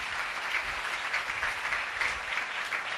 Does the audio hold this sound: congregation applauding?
yes